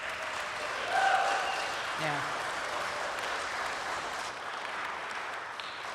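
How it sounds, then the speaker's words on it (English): A church audience gives a round of applause for two authors at a meet-the-authors event. The clapping is moderate and diffuse, slightly stronger at the start and then easing, with a brief voice heard during it. "round of applause again for our two fantastic authors"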